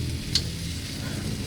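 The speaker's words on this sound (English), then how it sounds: "I'll just sear that edge." The fat edge of a steak sears in a hot pan with a continuous close sizzle, plus a light clink near the start, with chips cooking in the same meal.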